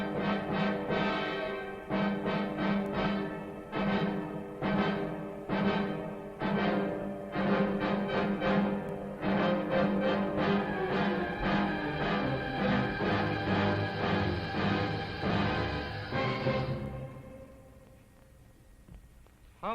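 Large symphonic orchestra playing Mahler around 1900, with dense, loud sustained chords and repeated forceful accented strikes, building and then fading to a quieter close.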